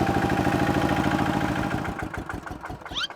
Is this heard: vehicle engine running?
yes